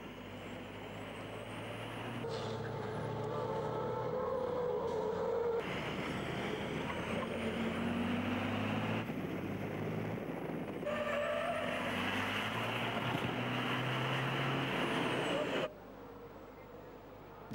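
Racing trucks roar along a circuit during an FIA European Truck Racing 2008 race, with loud sustained engine drone and shifting pitch across several cuts, under a commentator talking in French.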